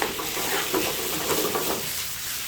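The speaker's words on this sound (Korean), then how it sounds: "여기서 케찹이 들어가면은 잘 볶아줘야 됩니다." Chop steak cubes are stir-fried with ketchup in a pan, giving soft sizzling and intermittent scraping stirs of a cooking ladle, fairly quiet and close, with no talk.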